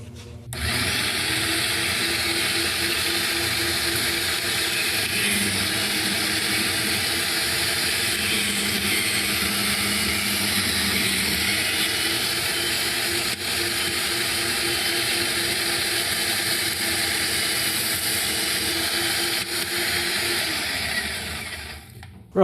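Power tool cutting a Kydex sheet for a knife sheath runs loud and steady for over twenty seconds with a whining, grinding tone and slight shifts in pitch as it works.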